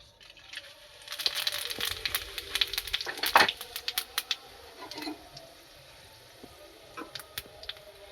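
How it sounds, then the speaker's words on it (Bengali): Whole garam masala, two dried red chillies and cumin seeds crackling in hot oil, a burst of sharp spits and pops that peaks early and then settles into sparse crackles, close and moderately loud with no talk. "এবার আমি এখানে একটু গোটা গরম মশলা নিয়েছি, দুটো শুকনো লঙ্কা আর একটু গোটা জিরে ফোড়নে দিয়ে দেব।"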